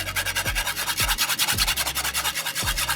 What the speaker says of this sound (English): We're gonna whisk in our powdered sugar.